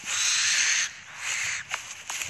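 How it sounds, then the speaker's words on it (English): Crows caw in a horror video game set among big trees, a harsh broadband call holding for almost a second, then a second burst and a few short clipped calls, fairly close and loud with no talking. "Crows."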